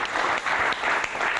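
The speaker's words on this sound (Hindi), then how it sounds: "तालियों के साथ स्वागत" A studio audience on a business talk show claps to welcome a guest, a dense, steady burst of applause filling the room.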